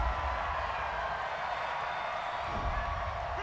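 Loud football stadium crowd at a Buccaneers–Falcons NFL game, a steady dense roar of thousands of voices reacting angrily to a penalty flag on third down, continuous throughout with no clear talk on top.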